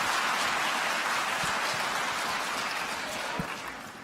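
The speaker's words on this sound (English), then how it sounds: "can we do a big round of applause?" A commencement-ceremony audience bursts into sustained applause, loud, dense clapping filling the hall steadily from start to finish with only a slight fade at the end.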